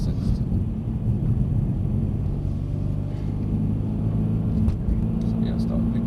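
A Mercedes-Benz C63s engine in Sport Plus mode pulls hard under acceleration, a steady loud low drone and rumble filling the cabin throughout, with a voice speaking over it.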